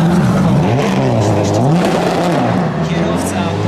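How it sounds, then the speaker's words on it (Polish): A Subaru Impreza rally car engine revs loudly and continuously at a rally in Poland, its pitch rising and falling through quick gear changes, close and aggressive throughout. "słyszymy tutaj samochód"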